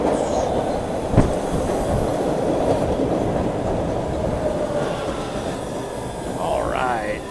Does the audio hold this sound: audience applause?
no